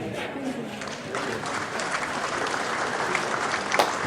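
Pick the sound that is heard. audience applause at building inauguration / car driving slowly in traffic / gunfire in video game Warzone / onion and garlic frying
audience applause at building inauguration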